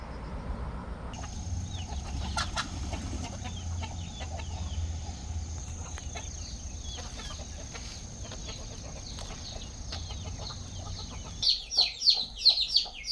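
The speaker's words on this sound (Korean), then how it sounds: "어, 이 병아리 깠어요." A hen clucks steadily in a backyard coop after five chicks have hatched, with repeated close clucks throughout and louder, sharper calls near the end.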